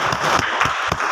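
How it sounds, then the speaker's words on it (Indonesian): A school class claps hands together, a short burst of loud, close clapping with a loose rhythmic pulse of claps. "Kita tepuk tangan."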